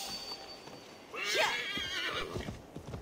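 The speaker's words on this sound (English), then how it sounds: "there's my horse" A loud horse whinny from a horse in the video game Assassin's Creed Valhalla rings out, followed by soft clopping hoofbeats, against a quiet background.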